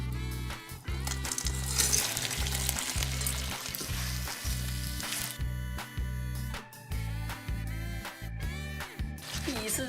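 Sweet potato dropped into hot oil and syrup in a wok, a dense steady sizzle with rhythmic stirring scrapes throughout.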